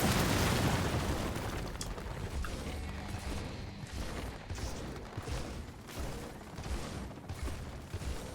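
Airstrike explosions in Gears of War 4: a loud, heavy blast opens, followed by rumbling, crackling booms and debris that gradually ease off.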